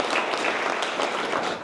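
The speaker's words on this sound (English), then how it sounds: "let's give the hotel and the chef a big round of applause" Dense applause from a dinner audience at a Cape Cod hotel honoring the chef at a Les Amis d'Escoffier gathering: a sustained roar of many clapping hands, fairly loud, easing slightly at the end.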